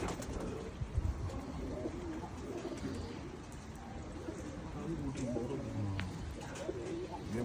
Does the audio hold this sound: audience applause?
no